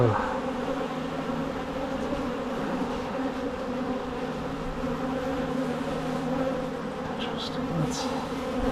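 Honeybees buzz steadily around an open beehive during an inspection, a dense continuous drone close by, with no talk.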